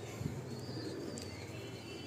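Soft cooing from pigeons in a home loft, a low murmur with a brief throaty call near the start, faint and close against a quiet background.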